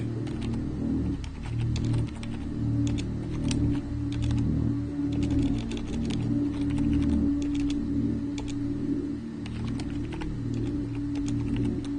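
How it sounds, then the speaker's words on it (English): A command typed into a game console on a computer keyboard, rapid irregular clicks of keystrokes over a steady low hum, with faint cooing birds in the background. "you can just open up the console and type in mark"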